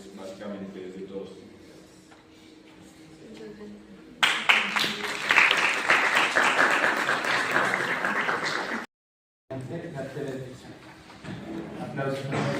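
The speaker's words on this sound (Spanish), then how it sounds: "Aplausos." An audience at a geography department conference gives sustained applause after a talk, dense clapping that starts abruptly after a stretch of quieter voices, breaks off briefly, then resumes; speech is heard at the start.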